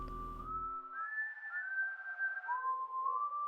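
A single human whistle carries a wavering, sliding tune in a video game, clear and fairly soft against near silence, with a short burst of low rumbling at the start.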